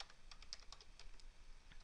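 Quick, light typing on a computer keyboard, a rapid irregular run of soft key clicks, fairly faint and close, with no talking.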